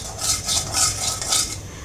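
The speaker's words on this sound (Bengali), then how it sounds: "এখানে লবণ একটু ভেজে নিচ্ছি" Salt dry-roasting in a pan before boiling jute greens: brisk, rhythmic scraping and gritty stirring strokes, close and alone.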